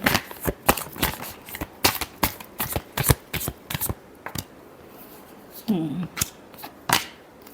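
Tarot cards shuffled by hand with a series of crisp riffling snaps at an uneven rhythm, close and fairly quiet, with a short pause and a brief voice near the end.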